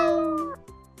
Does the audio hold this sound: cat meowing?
yes